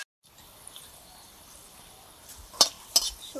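Eggplant slices fry in a pan, giving a quiet, steady sizzle close up, with a couple of sharp utensil clinks against the pan near the end, and no one talking.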